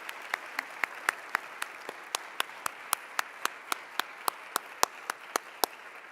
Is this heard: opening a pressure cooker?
no